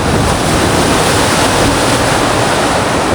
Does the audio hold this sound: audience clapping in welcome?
no